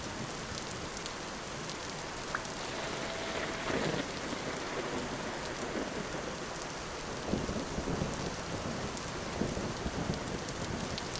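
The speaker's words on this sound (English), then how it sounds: "At least I'm in out of the rain." Steady rain falls in the video game Vintage Story, a dense continuous patter heard alone with a low rumble of thunder rolling underneath.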